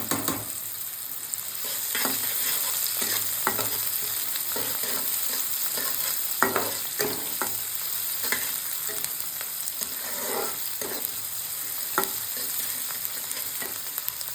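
Onions sizzle steadily in a hot pan for a restaurant-style mutton pepper dry, with intermittent scraping stir strokes cutting through the constant frying hiss.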